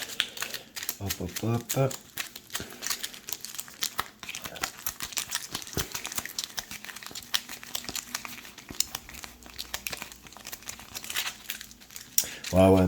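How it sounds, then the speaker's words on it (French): A deck of Mage Knight board game cards gets shuffled with rapid, crisp rattling and crinkling riffles that run throughout, while a player speaks briefly in between. "On va prendre le deck de Krang et on va le mélanger."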